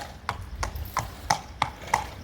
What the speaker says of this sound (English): Lovely big relaxed horse